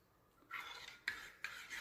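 A utensil clinks and scrapes against a bowl while coconut oil is stirred into a neem and aloe vera soap mixture, giving three quiet, close stirring strokes on a low background.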